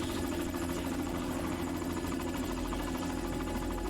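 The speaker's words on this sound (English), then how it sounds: "all these helicopters flying over. So many helicopters." Helicopter heard in a video game, a steady rhythmic rotor thump with a droning engine hum, continuous and fairly loud throughout, no speech.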